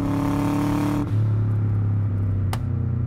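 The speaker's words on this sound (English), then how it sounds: "There's a nice backfire there." A Subaru Forester STi Type-M with a 2-liter boxer four-cylinder drops from a droning rev to a low idle rumble, and a single sharp backfire crack pops out near the end.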